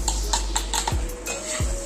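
A spoon clinks and scrapes against a pot while asafoetida powder and salt are stirred into lemon pickle, a few quick metallic taps and drags close by with a faint sizzle underneath.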